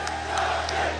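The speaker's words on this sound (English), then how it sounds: "crowd is going wild for Junding" A large tournament crowd at a Tekken 7 major roars and cheers wildly, a sustained, dense wall of voices with a few sharp whoops cutting through near the start and middle.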